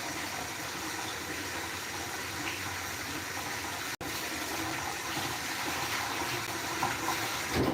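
Tap water runs steadily in a kitchen sink while a spoon is rinsed during holiday turkey dinner cooking, a continuous close gush with one brief cutout midway and no talking.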